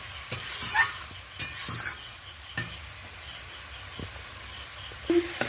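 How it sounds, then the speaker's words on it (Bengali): Sole fish curry with ground tomato, ginger and onion being stirred after salt is added, a soft sizzle under a few sharp spoon taps and scrapes against the pan, near and with no talk. "লবণটা দিয়ে ভালো করে নেড়ে দিচ্ছি।"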